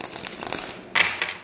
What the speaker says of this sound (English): So, one more shuffle for Virgo